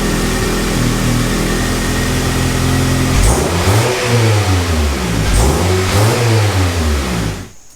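Car engine revving with muffler tape wrapped on a cracked exhaust, first a loud steady idle, then several rising and falling revs close by before cutting off.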